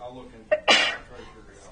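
A single sneeze bursts out in a town council meeting room, a short sharp intake followed by a loud explosive release, heard close amid people talking at the meeting.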